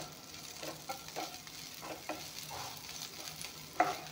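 Fish fries in a pan with a quiet, steady sizzle, broken by a few soft clinks and scrapes from stirring, including a sharper knock near the end.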